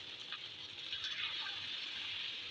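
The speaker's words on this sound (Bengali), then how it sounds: "এখন পানিটা দেওয়া দিই" Water poured into a cooking pot while stale rice and leftover curry are being made into khichuri, a steady soft gush of liquid throughout, fairly faint and close.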